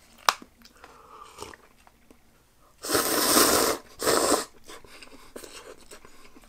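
Kinchan Noodle soy sauce cup ramen being eaten, with faint close chewing and bites, then two loud, noisy bursts of slurping or crunching in the middle, and no talking.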